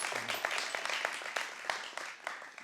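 A studio audience on a talk show applauds with dense, steady clapping that carries evenly through the whole stretch at moderate loudness.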